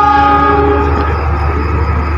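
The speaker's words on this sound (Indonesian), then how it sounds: "kereta api Pasundan tambahan sudah masuk dan berhenti di jalur 3 stasiun Cibatu" A Pasundan passenger train arrives at Cibatu station, its horn sounding loud and close as a sustained tonal blast over the low rumble of the train.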